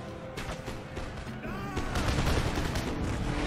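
Musket volleys from line infantry defending castle walls in Empire: Total War, a dense crackling fusillade rolling on continuously with overlapping shots, distant battle din beneath and a brief faint voice.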